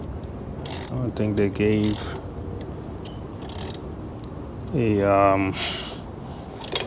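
Bolts being tightened on tie-down brackets of a 2025 Honda Goldwing motorcycle, giving short bursts of ratchet clicking and metal turning close to the mic, with someone talking in between.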